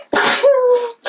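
A single sharp human sneeze, close and loud, with a breathy onset followed by a voiced burst, during a knitting podcast conversation.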